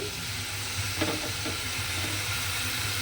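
Grated coconut fries and is stirred into a red amaranth dish, giving a continuous sizzle and hiss with a few soft scraping strokes, close and steady.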